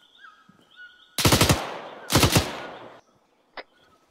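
Two loud close bursts of rapid automatic gunfire in the military game 3CB Op Zulu Dawn, each lasting about a second, followed by a single fainter shot near the end.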